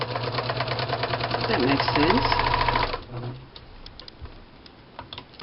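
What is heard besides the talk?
sewing machine stitching a lavender heart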